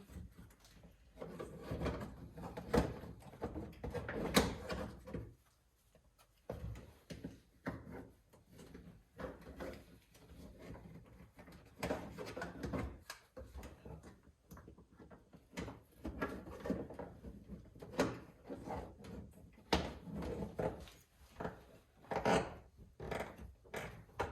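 Plastic door trim piece on a 1999-2007 Chevrolet Silverado being fitted back onto the door, a series of close rubbing, sliding and clicking knocks as the piece is pushed and clipped into place.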